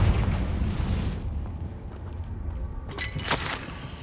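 A Confringo fire spell explodes in Hogwarts Legacy, a rumbling deep blast that fades into a crackling burning roar, with a sharper crack partway through.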